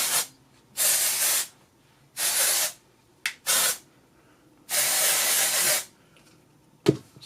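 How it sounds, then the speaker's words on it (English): Tresemme Texture Dry Texture Finishing Spray is sprayed onto hair in several close, loud hissing bursts of varying length, separated by short pauses and ending with a brief final puff. "This is the Tresemme Texture Dry Texture Finishing Spray."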